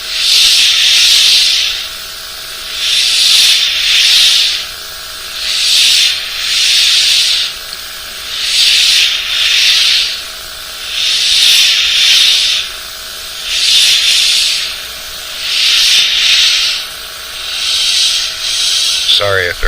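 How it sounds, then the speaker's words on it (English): An air compressor supplying constant 20 psi to an airbrush spraying paint for a no-stencil fade, heard as a steady hiss that swells and drops in regular bursts of roughly one to two seconds, close and fairly loud. "So when you hear the compressor running, it's giving me constant 20 pounds of pressure."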